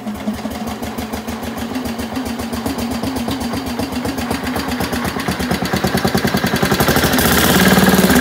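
A Bolens garden tractor engine chugs in a fast, regular beat, and its pace and loudness climb steadily toward the end as the throttle is raised.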